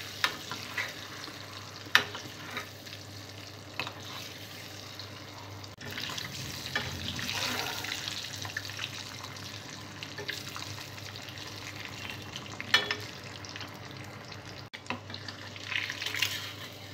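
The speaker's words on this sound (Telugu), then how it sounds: "ఇందులో పసుపు వేసుకొని ముందుగా ఉడికించిన ఎగ్స్ని ఫ్రై" Boiled eggs fry in hot oil with turmeric, giving a faint, steady sizzle close by, with a few soft clicks and knocks of utensils against the pan and no talking.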